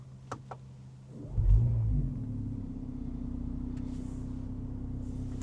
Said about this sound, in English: it's a 4-cylinder 2-liter, so it'll sound exactly like the A45 really